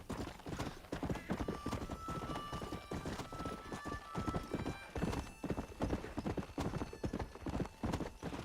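Horse hooves clip-clop in a fast steady rhythm in Red Dead Redemption on Xbox 360, with a whinny now and then over game ambience.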